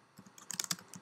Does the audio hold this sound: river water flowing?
no